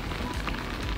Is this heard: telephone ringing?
no